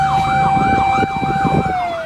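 Wailing fire truck siren as firefighters rush to a burning shipping container at a Manila port terminal, loud and close with steady rising-falling sweeps over rumbling truck engine noise.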